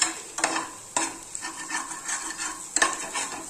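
A Maggi noodles snack fries in a pan as a utensil stirs it, giving sharp metallic scrapes and taps over a soft sizzling hiss, close and unaccompanied by speech.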